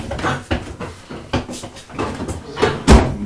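A household drawer or cupboard is pulled open with several soft wooden knocks and slides, ending in a louder clunk near the end, close and fairly loud with no talk.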